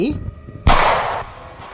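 A single sharp gunshot cracks out after a brief voiced sound, followed by a fading rumble and hiss.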